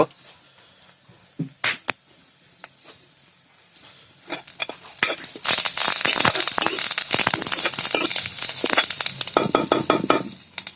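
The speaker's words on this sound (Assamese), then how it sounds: "পিঁয়াজটো অলপ ৰঙা পৰাকে ভাজিব লাগে।" Onions fry in a pan for an Assamese-style chicken curry, with a few clinks and stirring taps before a loud, steady sizzle builds and carries on. A voice speaks near the start.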